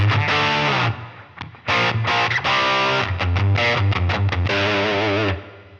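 A distorted electric guitar through a Line 6 Pod Go/Helix/HX Stomp plays a chugging riff of sustained chords and quick stabs, loud and close, with brief gaps between phrases.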